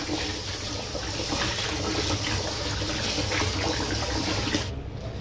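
Rice grains being rinsed for sushi rice on a sixth wash, water swishing and splashing steadily and close up in a basin, with a continuous wet churning throughout and no voices.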